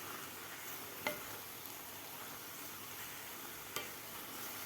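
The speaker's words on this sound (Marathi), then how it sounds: "आता दूध घातल्यानंतर आपल्याला 6 ते 7 मिनिट हे गाजराचा किस परतून घ्यायचा आहे." Grated carrot cooking in milk in a pan for gajar halwa, giving a faint, steady simmering hiss with two light taps of the stirring spoon against the pan.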